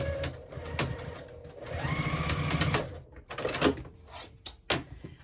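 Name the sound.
sewing machine sewing a 3/8 inch seam on a zipper pouch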